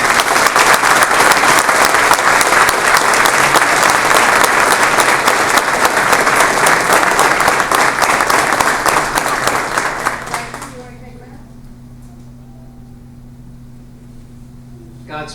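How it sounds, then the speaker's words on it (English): A graduation ceremony audience for a Maryland correctional training class claps loudly and steadily for about ten seconds, then the applause fades into a quiet room hum. "Please join me in a round of applause."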